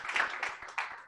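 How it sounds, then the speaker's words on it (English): Brief, faint applause from an audience at a business talk, a short burst of scattered claps thanking a speaker. "Round of applause for Geoff."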